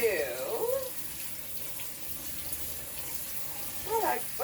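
Tap water runs steadily while cranberries are rinsed under it, with a voice talking briefly at the start and again near the end.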